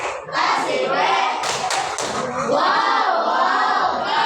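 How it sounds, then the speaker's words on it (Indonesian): Schoolchildren in a classroom performing a rhythmic group clapping routine, loud claps and thumps blended with excited children's voices and cheering, filling the whole stretch close to the listener. "kita kasih tepuk wow"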